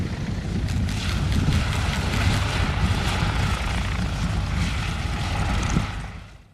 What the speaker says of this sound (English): And coming into land right now, you know what it is? It's the Boeing Stearman.